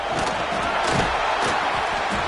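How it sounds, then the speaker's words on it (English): A stadium crowd in an American football video game swells into a steady, loud roar of cheering that fills the whole stretch without a break. "This crowd rising up, sensing that its defense needs some help."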